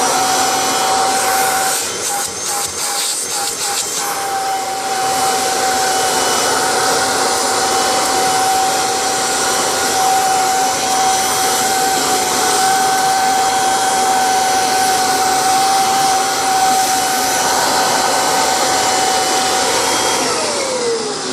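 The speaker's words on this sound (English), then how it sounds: "a Kirby has excellent hose suction" A 1996 Kirby G4 upright vacuum cleaner runs steadily for the whole stretch, with a loud, continuous motor whine and airy roar and a sustained high tone. No one speaks over it.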